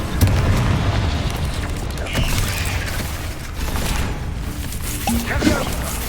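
Confringo blasting spell in Hogwarts Legacy on Xbox Series X, a heavy boom followed by crashing, creaking debris, with a few more muffled impacts and some speech in the background.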